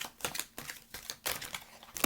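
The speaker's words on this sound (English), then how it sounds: "That was not a good shuffle." Tarot cards being shuffled in quick, uneven bursts of crisp riffling clatter, close and fairly quiet, with short pauses between the bursts.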